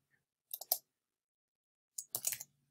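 A computer keyboard gives two short clusters of soft, close key clicks separated by a quiet pause.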